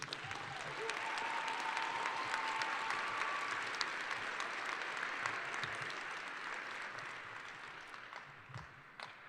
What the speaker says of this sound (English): how about a big round of applause for our fabulous teachers?